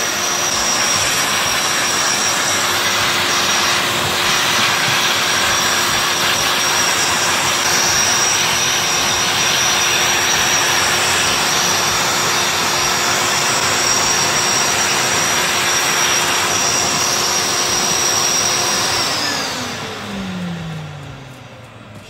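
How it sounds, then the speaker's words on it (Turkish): A Libelle cleaning robot used as an air compressor blows a steady, loud, high-pitched rushing stream of air with a whining tone for about twenty seconds, then winds down as the motor stops. "Ve alın size kompresör makinesi. Fena gidiyor ya, hava kaçağı yok."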